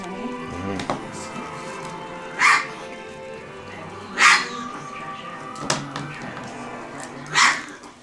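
Sleepy chihuahua puppies whimper and let out a few short yips and barks, spaced every second or two, close by, with soft talking between the sounds.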